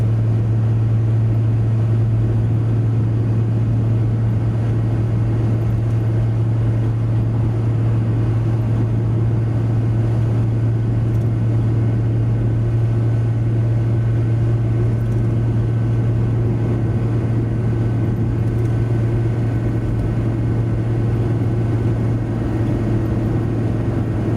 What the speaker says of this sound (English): The noise is deafening because we've got a leak in the exhaust at the back.